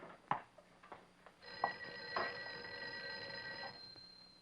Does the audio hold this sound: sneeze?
no